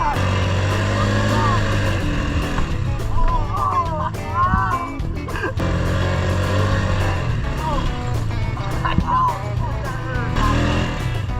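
A dirt bike engine drones and revs steadily close by under a heavy passenger load while it lifts into a wheelie, with people talking and shouting over the motor the whole time.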